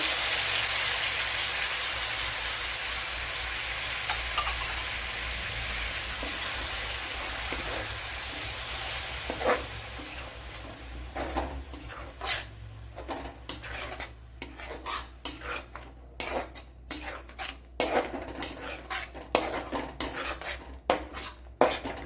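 Onion and tomato paste poured into hot oil in a pan for an egg dish, starting with a loud broad sizzling hiss that fades, then rapid repeated scraping and clanking of a utensil stirring against the pan.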